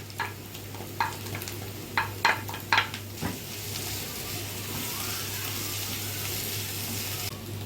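Chopped onion and grated carrot sizzle in a pan as a steady hiss, broken early on by several sharp scrapes of a utensil stirring, then settling into an even, continuous frying sound.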